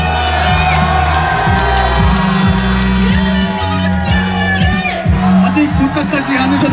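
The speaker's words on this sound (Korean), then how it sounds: "큰 박수 부탁드립니다." A rally crowd at a university political gathering in Korea whoops, shouts and cheers loudly, with babbling voices and bursts of yelling that stay dense and close throughout.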